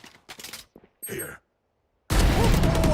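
Rapid bursts of gunfire in the video game Apex Legends arrive as short clustered shots early on, followed by a sustained loud barrage of fire at the end.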